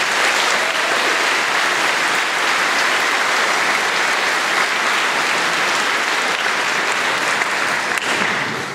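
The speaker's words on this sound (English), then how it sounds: "So please take a moment and give your families a round of applause." A high school graduation crowd gives families a long round of applause, dense and continuous clapping from a large audience with no break.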